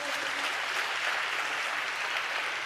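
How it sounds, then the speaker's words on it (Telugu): A congregation at a church service clapping together, a dense and even wash of applause that holds steady at moderate distance for a few seconds, with no clear speech. "చప్పట్లు కొడుతూ స్తోత్రాలు చెప్దాం."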